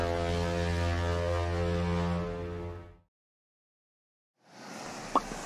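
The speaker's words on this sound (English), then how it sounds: "This is a transportation ship." A transportation ship's horn gives one long, loud, deep blast lasting about three seconds, followed by silence and then a low wash of water or ambient noise.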